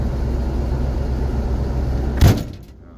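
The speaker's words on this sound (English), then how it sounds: "You gotta slam the door like you mean it." A truck door on a fuel truck slams shut once with a sharp, close thud, followed by a brief rattle, over a steady low idling engine rumble that drops away afterward.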